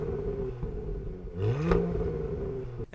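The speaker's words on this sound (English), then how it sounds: "Now, when it comes to the back, of course, this one has the sport exhaust system" A Porsche Macan GTS with gloss black sport exhaust tips revs once near the mic, the engine note rising into a brief swell around the midpoint before settling back to a steady idle-like rumble.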